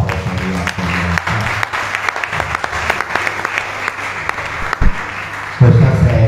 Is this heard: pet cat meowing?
no